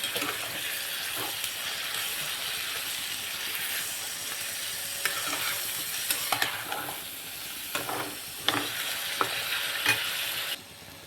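Salted broad beans (chikkudukai) fry in a pan under a constant soft sizzle and hiss, with repeated scraping and tapping of a spatula stirring throughout, briefly sharper near the end.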